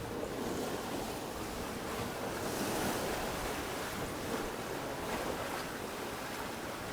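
Sea waves in the Balearic Islands roll and hiss continuously, with wind blowing across the microphone in a steady, moderately loud wash.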